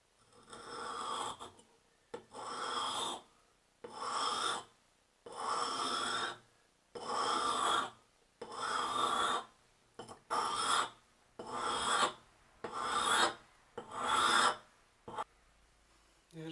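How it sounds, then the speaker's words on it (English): A file rasps along the dull edge of an old axe blade in about ten even strokes, each a loud, harsh scrape separated by short pauses, close up with no talking. "first I'm going to sharpen this one. It's very dull, as you can see."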